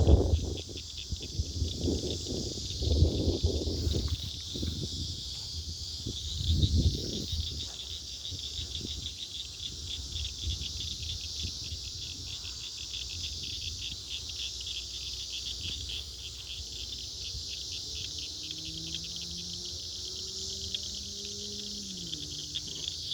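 Frogs calling to mate on a night outdoors form a steady, dense high-pitched trill chorus throughout. Some low rustling and footstep-like thumps sit near the start, and no one speaks.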